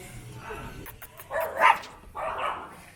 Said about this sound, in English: Got more dogs.